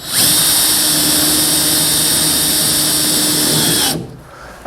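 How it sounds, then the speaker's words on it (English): A power drill bores through the felt channel and inner wall of a 1952 Chevrolet pickup door, a loud, steady whine running nearly four seconds close up before stopping abruptly. "It drills through the felt channel first, and then you'll feel it drilling through the second wall."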